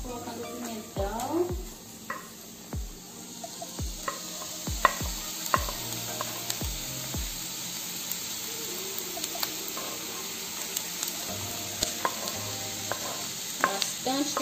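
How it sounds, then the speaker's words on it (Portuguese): Bell pepper sizzles softly in a pan while being stirred for a baked rice dish, with a steady low frying hiss under frequent close scrapes and taps of a utensil against the pan. "colocando o pimentão"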